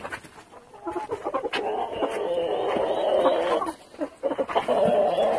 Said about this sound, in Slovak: Tu máme takto sliepku.